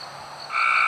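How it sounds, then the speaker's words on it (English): A chorus of frogs croaking together at night in Louisiana, their tonal calls swelling louder halfway through, with no talk over them. "Hear the frogs? That's Louisiana for you."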